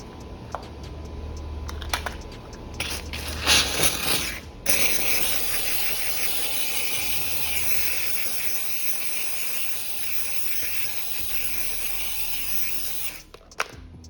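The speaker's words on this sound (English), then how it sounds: "with just a steamer with distilled water" A loud, continuous hiss of pressurized steam from a steam cleaner with distilled water sprays on exhaust tips for several seconds up close, preceded by some clicking and handling noises before cutting off.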